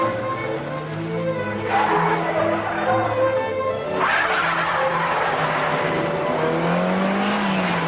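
A Toyota Corolla E100 taken hard through corners, its tires squealing and skidding over a steady, loud engine drone that holds for about eight seconds.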